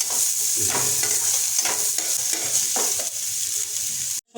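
Onions frying in oil with whole garam masala and dried red chili for an egg do pyaza, stirred steadily: a continuous close sizzle broken by repeated scraping strokes of a spoon, with no talking.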